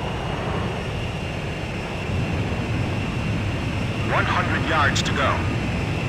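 Fighter jet engines roar steadily in the Ace Combat 5 game as the formation closes on a refueling aircraft, a continuous loud airflow rush with radio chatter breaking in near the end.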